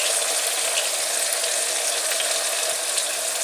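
Garlic ginger paste, tomato and red chilli hitting onions in a hot pan, a loud, dense, continuous sizzle heard close and without pause.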